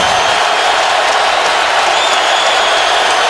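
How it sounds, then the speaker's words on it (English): A packed stadium crowd roars and cheers at an Indianapolis Colts home game against the Tennessee Titans, a dense, loud, continuous wash of voices that holds steady throughout with no distinct single voices. "This crowd is really into it."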